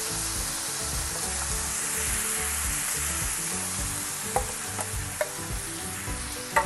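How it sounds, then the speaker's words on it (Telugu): Banana flower and fenugreek seed curry stirred in a hot pan, a steady sizzle with soft scraping strokes and a few sharp clicks of the spoon against the pan near the end. "ఇందులో వేసి ఒకసారి బాగా కలపాలి"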